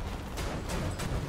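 Bradley's 25 mm cannon firing in the video game War Thunder, a few heavy booming shots spaced roughly a third of a second apart over a dense rumbling battle background.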